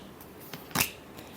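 Tarot cards are shuffled once more, a soft short riffle, then a sharper, louder ruffling burst of cards against each other, close and quiet with no talk.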